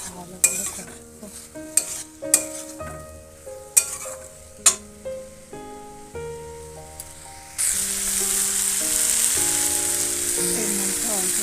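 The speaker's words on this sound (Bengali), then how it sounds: "প্রথমে হলুদ দেবো, নুন, আর এটাকে ভালো করে কষাবো।" Potatoes fry with turmeric and salt in a home kitchen pan for aloo matar, first with sharp spatula knocks and stirring strokes, then a loud, steady sizzle that takes over.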